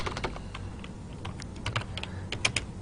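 Fast, close clicking on a computer keyboard as a telnet command is typed at a router prompt, a steady run of keystrokes with a few louder taps near the end.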